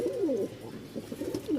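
Rajshahi Giribaj pigeons coo repeatedly at close range, soft rolling calls rising and falling in a quick sequence with no speech over them.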